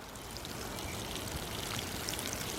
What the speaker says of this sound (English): fill it up with more water,